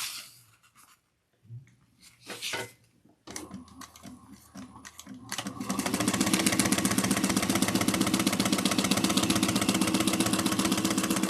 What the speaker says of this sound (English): you're going to put the two short ends together and you're going to sew them at 3/8 of an inch